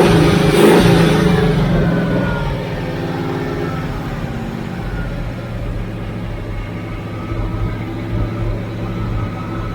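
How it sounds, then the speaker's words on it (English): A 1985 IROC-Z's engine runs with its idle set too high, a loud rev at the start settling into a steady, fast, droning idle that holds throughout with no voices. "Well, she's running, guys, but it's idling too high"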